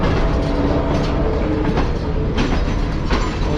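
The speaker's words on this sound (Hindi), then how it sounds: "और ये ट्रेन अब जाके पहुंची है प्लेटफॉर्म नंबर 5 पर" The Tezgam train rolls into platform 5, giving a loud, close, continuous rumble of wheels and carriages with a few rhythmic clacks over the rail joints.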